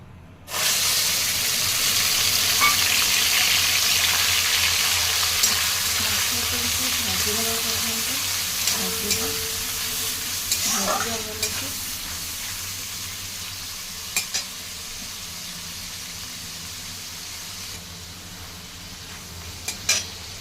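Fish fries in hot mustard oil with a loud, continuous sizzle and hiss, with occasional stirring scrapes and small pops, fading slightly over time.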